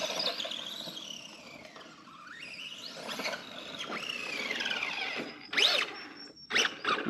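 A high-pitched drivetrain gear whine from a 1/10 scale pre-runner RC car rises and falls with speed, squealing over a small motor's buzz, with a few sharp chirps near the end.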